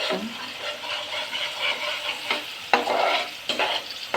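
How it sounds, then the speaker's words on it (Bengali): Pieces of koi fish fry in spiced oil in a pan, a continuous close sizzle broken by a few louder bursts as pieces are stirred or turned, with no talking. "এখানে চার পিস মাছ একদম মশমজা করে ভেজে নিচ্ছে"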